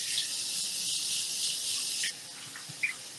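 Cold water runs steadily from a kitchen tap for about two seconds as a steady, close hiss, then shuts off, leaving a few faint clinks.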